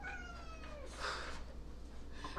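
A male house cat meows close by, one drawn-out call with a rising and falling pitch, then a shorter cry near the end, over a faint low hum.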